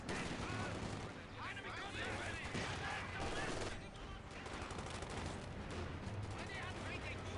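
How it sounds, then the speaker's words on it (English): An MG42 machine gun rattles in Company of Heroes 2 amid dense battle noise, loud bursts of rapid fire mixed with other gunshots and booms, with voices talking over the din. "Wait, that was an MG42."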